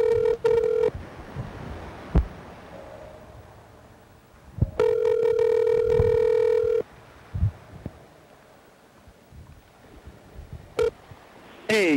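Telephone tones, a long steady beep, then bursts of dialing and ringing tones separated by clicks and quiet gaps, with a rapid warbling tone at the end. No one speaks.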